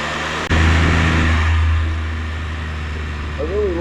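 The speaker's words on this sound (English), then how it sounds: "You can hear the downshifting." A nearby Can-Am F3 Spyder engine drops into a lower, rumbling idle after an abrupt automatic downshift, humming steadily with a brief voice near the end.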